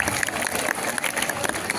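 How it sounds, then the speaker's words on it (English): Audience applause at a school event marking the release of a class magazine, a dense steady patter of clapping filling the short stretch at an even level with no pauses. "Please give them a huge round of applause."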